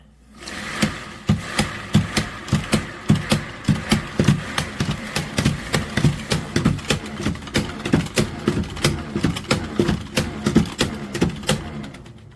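A spin mop whirls in a four-chamber bucket's wringer, producing a fast series of rhythmic clacking pulses as the head is pumped and spun; close, loud and regular for the whole stretch, with no speech.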